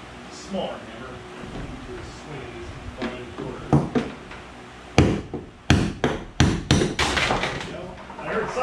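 Heavy metallic hammer blows on the tub bearing of a Whirlpool Cabrio washing machine, a few spaced strikes then a quicker burst of loud bangs, close by with some voice in the background.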